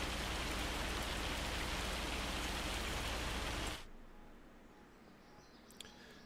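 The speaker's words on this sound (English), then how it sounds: "A little bit of hail." Hail falling in the farming game Farming Simulator 25, a dense, loud, steady patter of pellets that cuts off abruptly after about four seconds, leaving quiet ambience with a faint click.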